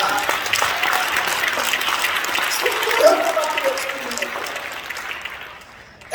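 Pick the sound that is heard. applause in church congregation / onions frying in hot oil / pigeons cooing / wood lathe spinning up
applause in church congregation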